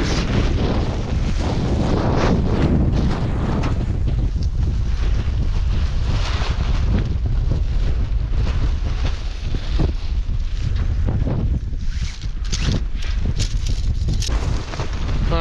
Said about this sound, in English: Wait for the wind to die down.